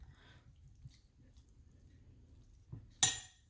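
Calamari and tuna poke dressed with sesame oil, mixed with utensils in a bowl: soft, quiet wet stirring, then a sharp clink of utensil on the bowl near the end.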